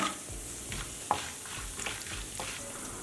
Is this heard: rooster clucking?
no